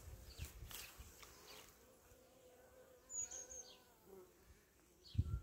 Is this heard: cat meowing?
no